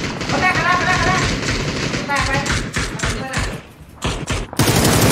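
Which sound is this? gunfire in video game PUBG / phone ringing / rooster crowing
gunfire in video game PUBG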